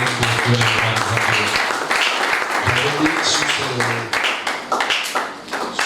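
A church congregation applauding in acclamation, a dense wash of clapping filling the room beneath a preacher's voice and sustained tones, continuing steadily for several seconds.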